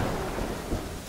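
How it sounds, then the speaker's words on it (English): Heavy rain hisses steadily through a thunderstorm in Terraria, with a deep rumble of thunder rolling beneath it, loud and close for a brief moment. "I love the thunderstorm event."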